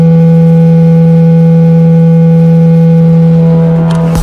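A loud, steady electronic hum with constant tones plays without a break, like the digital phone cooler tone from a Pepsi Zero Sugar ad, ending with a brief crackle.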